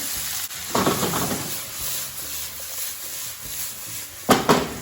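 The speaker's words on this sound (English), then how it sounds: "Now I'm gonna add some of this pasta in." Cooked pasta being added and stirred into a sizzling pan of Jamaican-style vegan Rasta Pasta sauce with ackee and scallion, two scraping, stirring bursts over a low steady sizzle.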